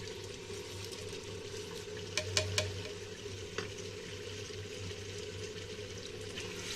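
Spices and mutton being stirred in a pot for kunna gosht, a steady low simmering hiss with a few soft scraping clicks of the spoon partway through, close and fairly quiet.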